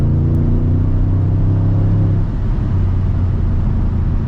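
A 2006 BMW 550i E60 engine rumbles steadily from inside the car while driving, a deep, even drone that eases slightly partway through, with no talking.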